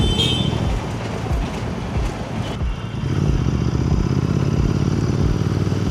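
A Royal Enfield GT 650 twin-cylinder motorcycle fitted with a Silver Stallion performance exhaust, idling with a low, steady thumping burble that grows fuller and louder partway through, heard close up with no talking.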